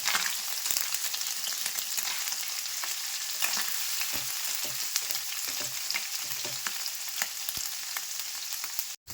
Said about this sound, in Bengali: পনিরগুলো খুব ভালোভাবে ভাজা হয়ে গেছে